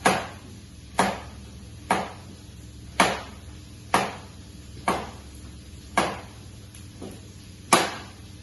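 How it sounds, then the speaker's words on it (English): A kitchen knife chops a courgette on a board, nine sharp, evenly spaced cuts about once a second, each a crisp knock with a quick ringing decay, close and clear with no talking over it. "and chop in half the courgette, or you can cut it again and have smaller pieces"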